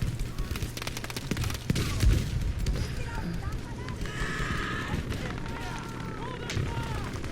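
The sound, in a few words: artillery and gunfire in video game Battlefield V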